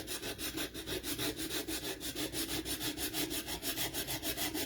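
Steady back-and-forth sanding strokes on a wooden house shelf sitter cutout, distressing the edges before chalk paint; close, rhythmic rasping about four strokes per second, continuous and alone.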